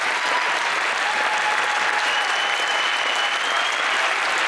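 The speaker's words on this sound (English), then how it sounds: "they deserve a round of applause for the work that they do every single day" Loud, dense applause from a large dinner crowd honoring Montana's public workers fills the hall steadily for several seconds, with no speech over it.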